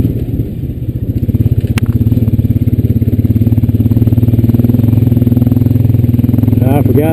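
Honda Rancher 420AT ATV engine cruising steadily at a constant throttle, with a continuous loud low drone and a pulsing rhythmic chug that runs throughout, close up.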